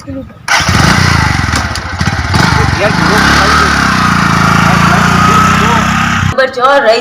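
Large motorcycle engine starting after a short pause, then revving and droning loudly and steadily for several seconds before dropping away at the end, with people talking over it.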